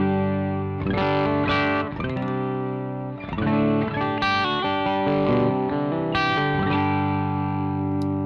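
Electric guitar on the bridge pickup runs through Two Rock and Port City amps set at the edge of breakup, giving a slightly gritty, ringing tone. Chords and single-note phrases play close and steady with no talking.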